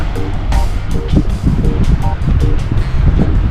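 Steady gusty wind roars low and broad across the whole stretch on the Fife Coastal Path between Elie and Anstruther, with brief tonal bits of a voice or distant sounds poking through intermittently.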